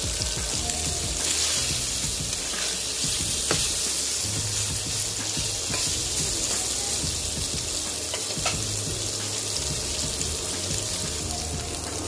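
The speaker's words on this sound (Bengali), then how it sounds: "পনিরটাকে প্রথমে ভেজে নেওয়া হচ্ছে" Paneer cubes frying in hot oil for a vegetarian paneer curry, giving a steady dense sizzle that runs without a break throughout, close and even, with a few faint clinks and scrapes beneath and no talking.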